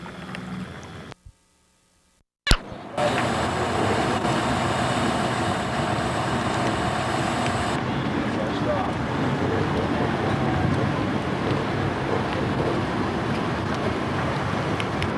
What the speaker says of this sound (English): When all else fails, just bring out the engines.